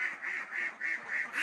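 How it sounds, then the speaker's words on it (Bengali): Farm ducks raised for eggs quacking in a rapid, rhythmic series of about six loud, nasal calls close by. "এগুলো আমার"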